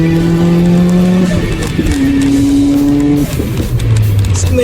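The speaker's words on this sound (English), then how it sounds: "On the highway, downshift to 3rd." A 2015+ Subaru WRX/STI fitted with a Perrin pitch stop drones loudly on the highway, its engine note dropping then rising in pitch as it downshifts to third gear, close and continuous.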